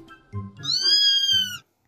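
A domestic cat gives a single drawn-out meow, rising then falling, clear and close after a short lead-in, followed by silence.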